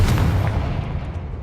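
A Confringo fire spell bursts in Hogwarts Legacy as a single loud, booming blast that rolls into a decaying rumble, heard with no talking.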